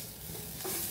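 Spoon stirring through a sizzling mung dal tempering of garlic, coconut, curry leaves and coriander in a pan, a short close scrape and crackle.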